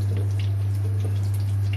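Water is poured into cornflour for gola kabab, a soft, close trickle and splash sitting over a strong steady low kitchen hum.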